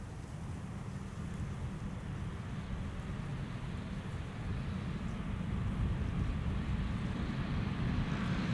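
An Aer Lingus A320 arriving at Amsterdam Schiphol from Dublin is heard as a distant, low, broad rumble that slowly swells louder, with no voices over it.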